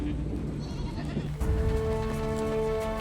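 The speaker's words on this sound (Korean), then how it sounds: "마지막으로 양과 염소 같은 작은 동물들이 따릅니다." Sheep and goats bleat along a migration trail behind larger herd animals, heading over a high snowy mountain pass toward winter pasture; several overlapping calls rise steadily over a busy outdoor background.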